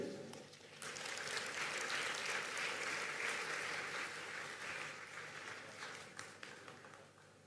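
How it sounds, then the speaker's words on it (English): Applause after a head of state's speech at the Africa Climate Summit 2023, a large audience clapping steadily for several seconds before gradually tapering off, with no talk over it. "Another round of applause for President Bayo."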